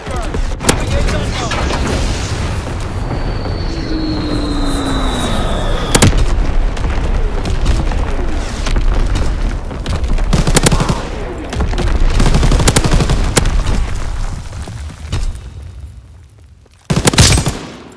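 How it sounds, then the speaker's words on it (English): Division artillery strike in the Call of Duty video game: repeated loud explosions and rumbling blasts fill the whole stretch, with sharp bursts and a brief drop near the end before one more strong hit. "Firing division artillery. Target position confirmed."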